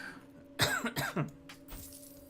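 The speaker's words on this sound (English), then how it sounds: "I don't have a cough drop in my mouth for 2 seconds and I start coughing again" A few short, close coughs in quick succession, followed by a quieter throat sound, over a faint steady hum.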